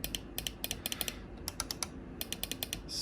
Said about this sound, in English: the precision of like the clicking is always like the same feeling